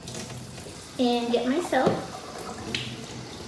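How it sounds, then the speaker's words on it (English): A sink tap runs during handwashing, its steady hiss of water streaming under a voice talking about the process. "So I'm going to turn on the water"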